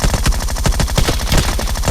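Rapid bursts of gunfire from a shotgun in the PUBG video game, loud, dense, and repeating steadily with no voices over the shots.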